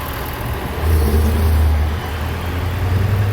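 An old school Cadillac car drives along with a steady low engine hum and a slight rise in revs midway, heard from inside the cabin, loud and continuous.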